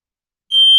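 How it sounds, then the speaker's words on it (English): A home smoke detector starts up halfway through, a loud steady high-pitched electronic tone that cuts in sharply out of silence. "my smoke detectors are going off"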